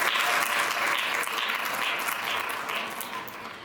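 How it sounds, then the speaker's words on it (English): Applause from an audience at a Diwali celebration, a dense and steady wash of clapping that stays loud throughout and tapers slightly toward the end. "please give them a round of applause"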